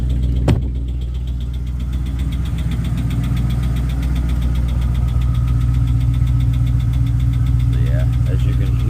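Dodge Charger with a swapped 392 engine idling rough at close range, a steady low rumble with a repetitive ticking lifter knock throughout and a sharp click near the start.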